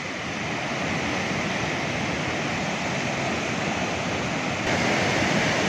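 The Neelum river, a mountain river in the Neelum valley, rushes through a narrowing channel with a steady, loud, broadband roar of fast water heard up close with no pauses or voices.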